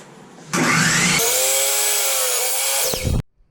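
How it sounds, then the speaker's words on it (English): A miter saw cuts through a wood side piece for a wine caddy, the motor spinning up with a loud whine, a harsh continuous cut for about two seconds, then a quick stop and silence, all very close. "So we've got to cut both of the sides, and we're going to use those with our trusty miter saw."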